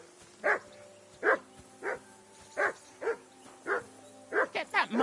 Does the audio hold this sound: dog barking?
yes